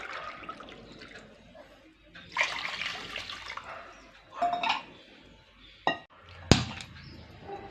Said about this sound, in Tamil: 2 கப் அளவு தண்ணி ஊற்றிக்கலாங்க.